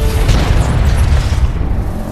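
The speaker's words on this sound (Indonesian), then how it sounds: "Aldo menyuruh Angel untuk meledakkan bom yang ada di mobilnya Frank melalui detonator yang dipegang" A car bomb in an action film detonates as a loud, deep boom that rumbles low and heavy for about two seconds, with no speech.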